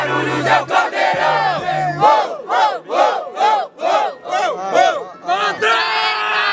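Crowd at the grand final of a freestyle rap battle in Brazil chanting and shouting in loud rhythmic bursts, one voice after another in a call-and-response pattern, close and filling the space.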